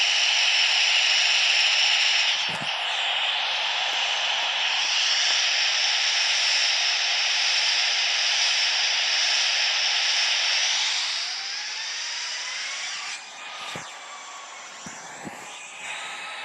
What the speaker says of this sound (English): pay attention to the reverse thrust engines